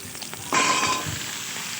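Potato pieces hit hot oil with a sudden loud hiss about halfway in, settling into a steady close sizzle with faint stirring, part of a vegetarian potato and green papaya ghonto.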